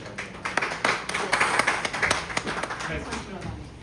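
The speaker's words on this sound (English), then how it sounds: "Please give a big round of applause to everyone who participated." A Toastmasters club meeting audience claps for table topic participants, a steady patter of many hands close by that continues for several seconds.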